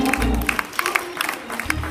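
A church congregation honoring a pastor and first lady breaks into applause, brief bursts of clapping and crowd noise layered over a low organ or music bed.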